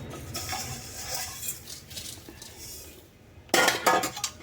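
Sev, puffed rice and peanuts being tossed together in a bowl, with light dry rattling and clinking at first and a louder burst of stirring near the end.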